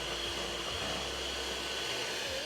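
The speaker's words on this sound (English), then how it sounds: "I'm gonna use my hand beater to mix this one up." An electric hand beater whirs steadily while mixing vegan brookie batter, a continuous close motor drone with a thin high whine that holds for the whole stretch, with no talking.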